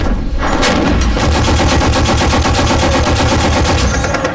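Loud, close gunfire rings out in a combat zone as heavy automatic bursts run almost without a break, with sharp cracks and booming reports.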